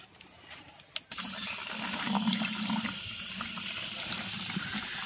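Water gushes steadily from a tap into a container being filled to 20 liters for an Epsom salt mix. A sharp knock comes just before the flow starts, then a loud continuous rushing pour follows with no talking.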